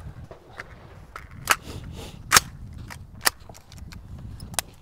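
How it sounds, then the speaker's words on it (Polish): Sharp metallic clicks and clacks of a Faxon carbine being handled and loaded, a few loud snaps spaced among softer rattles, close and without voices. "za chwilę załaduję broń"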